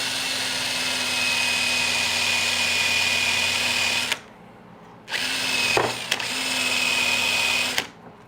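Power drill spinning a wire wheel in a guitar repair shop, a steady loud whine that cuts out briefly, restarts with a couple of sharp ticks, and then stops again.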